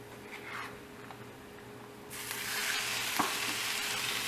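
Ground pork lands in a hot wok for mapo tofu and breaks into a loud, continuous sizzle, with scraping stirs through the frying.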